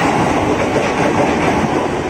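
A loud, steady rumble of a JR East 203 series KRL commuter electric train bound for Bogor passing close by, dense roaring wheel noise with faint rhythmic clatter, no voices.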